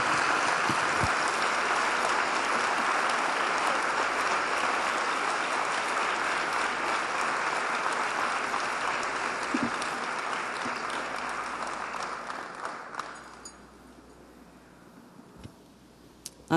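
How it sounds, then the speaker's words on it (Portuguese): A church congregation applauds during a Portuguese-language sermon, dense sustained clapping filling the room for about thirteen seconds before fading out, leaving near silence with a few faint knocks. "Você pode aplaudir o Senhor por isso enquanto eu tomo uma aguinha?"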